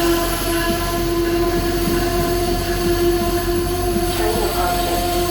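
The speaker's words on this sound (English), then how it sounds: "Train approaching." Amtrak train rolling into the Old Saybrook, Connecticut station, a continuous loud rumble with a steady whine and faint wheel squeal, no talking.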